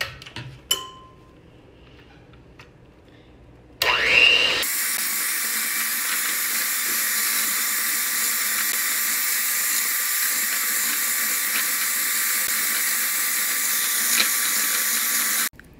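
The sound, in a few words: blender blending pumpkin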